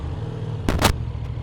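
A Yamaha MT07 motorcycle pulls away on a small hill, its low engine drone steady beneath a short, loud gust-like burst of broadband noise in the middle.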